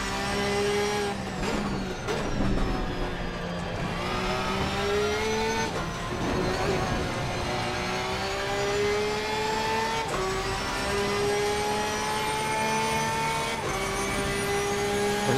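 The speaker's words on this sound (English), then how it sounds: "this car just sounds like it's got screaming more RPM than the other car" A 2018 Porsche GT3R race car in Assetto Corsa Competizione at Paul Ricard revs hard, its engine note rising and dropping through repeated gear changes, loud and continuous with screaming high-RPM harmonics and no talk.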